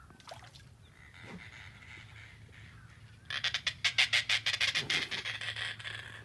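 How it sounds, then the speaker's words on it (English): Laughing birds seen on a lakeside nature walk at Circle B give a burst of rapid, cackling calls in the second half, loud and close, after a quieter stretch of outdoor ambience. "These are laughing birds."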